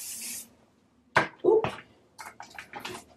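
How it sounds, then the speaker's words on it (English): A quick hiss of a spray bottle near the start, during a wig install, followed by a few soft clicks and handling noises in an otherwise quiet room. "So you're going to spray."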